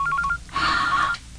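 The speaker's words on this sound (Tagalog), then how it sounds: "Ang telepono." A telephone rings in two short electronic bursts, a brief chirpy trill followed by a longer, louder ring, heard alone with no talk.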